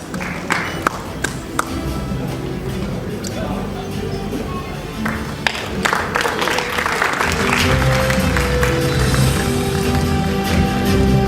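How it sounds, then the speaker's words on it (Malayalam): An audience claps in welcome for a young girl singer at a stage show of remembrance songs. The applause is sustained and fairly loud, with sharp claps early on, and a voice and musical tones rise beneath it toward the end. "നല്ലൊരു കൈയടിയോടുകൂടി തന്നെ ഈ കൊച്ചു ഗായികയെ, കൊച്ചുമിടുക്കിയെ നമുക്കൊന്നിച്ച് സ്വാഗതം ചെയ്യാം"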